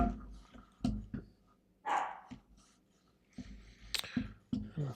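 A pet dog barks in several short, sharp bursts spread across a few seconds, fairly close and loud against a quiet indoor background.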